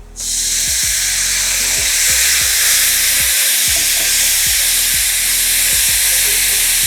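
Tomato puree and spices fry loudly in a hot pan, a continuous close sizzle with rhythmic scraping from constant stirring.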